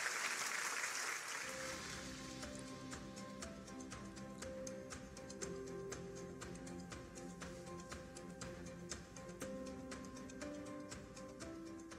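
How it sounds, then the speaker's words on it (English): A short burst of applause at the start of a rally, quickly giving way to music with ticking percussion that carries on to the end. "with a warm round of applause."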